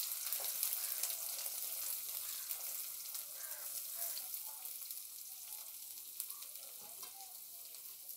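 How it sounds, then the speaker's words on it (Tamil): Chopped small onions go into hot oil already fried with cinnamon and spices for a country chicken gravy, setting off a steady, close frying sizzle with light stirring that holds throughout. "நம்ம அடுத்து நறுக்கி வச்சுருக்கிற வெங்காயத்தை ஆட் பண்ணிக்கலாம்."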